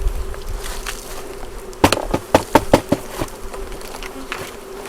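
Carniolan honey bees hum in a steady outdoor drone around a new nuc hive, with several sharp taps or knocks clustered in the middle against the continuous buzzing.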